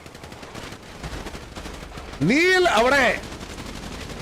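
Gunfire in a mobile battle royale shooter turf match, a short loud burst of automatic shots lasting under a second, heard over game sounds and a commentator's voice.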